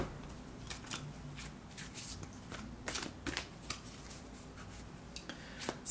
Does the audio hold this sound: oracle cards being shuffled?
yes